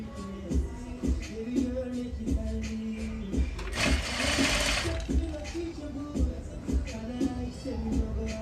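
A sewing machine stitches a jacket lining in quick short bursts with pauses between runs, and a louder whooshing noise rises briefly in the middle.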